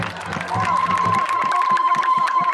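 A rally crowd of supporters in Néma cheers and chants continuously, a dense wash of many voices with a sustained shout rising over rhythmic clapping-like bursts, fairly close and loud throughout.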